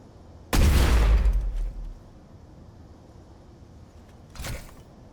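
A rocket launcher fires in the space game Space Engineers: one loud, close blast with a roaring tail that fades over about a second, then a softer second burst a few seconds later.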